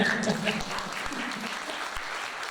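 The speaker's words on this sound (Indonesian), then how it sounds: "Tepuk tangan boleh nggak ya?" Audience applause at a school Isra Mi'raj commemoration, a steady wash of clapping held at moderate loudness throughout, with faint voices mixed in underneath.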